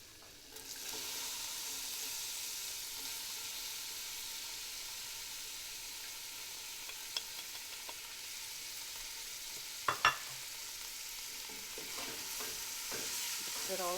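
Chopped onion sautés in a pot in about a tablespoon of oil for a vegan corn chowder, giving a steady, even sizzle with a few sharp utensil clicks from stirring near the middle and end.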